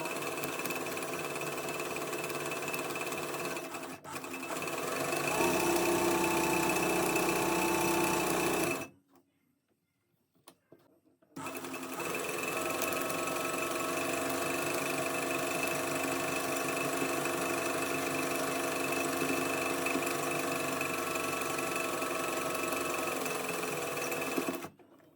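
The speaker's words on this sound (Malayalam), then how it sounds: "അടുത്തത് സാറ്റിൻ സ്റ്റിച്ച് ചെയ്യാം." An embroidery sewing machine hums and rattles steadily while stitching a satin stitch, pausing into near-silence for about two seconds midway before resuming at a constant, loud, even whir.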